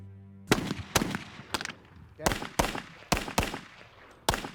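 Sharp rifle and pistol gunshots from German WWII weapons such as the Mauser, Luger and Schmeisser machine pistol ring out during military marksmanship training, about eight loud cracks fired at irregular intervals with short echoing tails.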